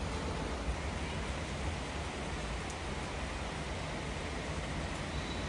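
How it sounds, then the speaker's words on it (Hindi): Heavy rain pours down in a dense, steady hiss that fills the whole stretch, loud and unbroken with no voices. "बरसात हो रही है जोरदार"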